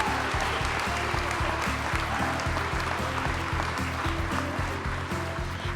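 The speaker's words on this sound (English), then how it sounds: "Let's have another big round of applause for this group of graduates." Sustained applause for graduates at a graduation ceremony, a steady roar of many hands with faint music or organ notes running underneath, fairly even throughout.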